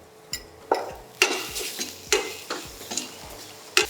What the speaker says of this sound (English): I'm going to add the onion. So once the onion is sauteed well